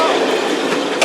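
A heritage railway train departs Paignton station toward Kingswear, its close, steady rumble and rolling wheel noise filling the moment with a brief squeal at the end.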